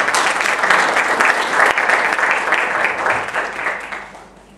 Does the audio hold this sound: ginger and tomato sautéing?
no